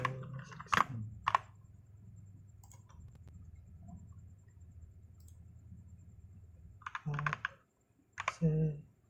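Someone types a password on a computer keyboard: a few quick bursts of clicky keystrokes near the start and again near the end, separated by a quiet stretch with low background hum.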